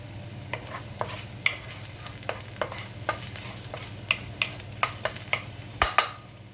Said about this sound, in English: we're going to let this sizzle without burning it for about 30 seconds